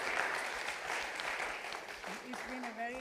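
Sustained audience applause after a presentation at a Dubai symposium, broad crowd clapping filling the hall, with a voice briefly speaking over it near the end.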